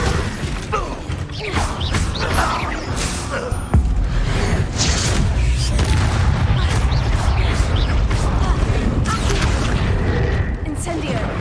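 Incendio fire spells cast in rapid succession during Hogwarts Legacy combat, a dense, continuous roar of magical bursts and crashes with one sharp impact, all mixed with game effects and a voice talking throughout.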